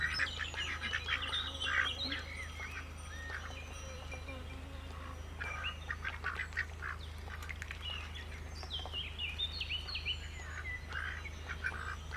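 Ducks quack in a busy, overlapping chorus nearby, with other birds chirping and a low steady hum underneath.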